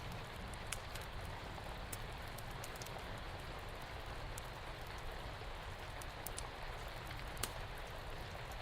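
Steady rain falls throughout, a soft even hiss of drops on surfaces with a few faint brighter ticks, quiet and unbroken, with no voices.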